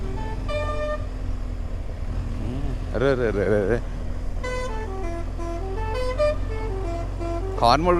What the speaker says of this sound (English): Horn కూడా మార్చిండ్రాడు ఇప్పుడు.